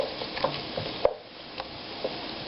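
Pork and beans with rice, bacon and smoked sausage get stirred in a pot, soft scraping and light sizzle with a few sharp clicks of the utensil, close and fairly quiet.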